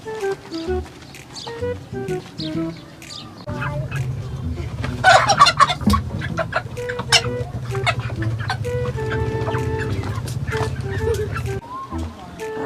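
Chickens cluck and squawk in a busy, crowded chicken shop while people talk nearby over a steady low hum.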